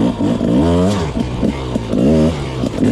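A 2023 Rieju two-stroke enduro motorcycle engine starts and revs in short bursts, its pitch climbing and dropping as the throttle opens and closes, loud and close.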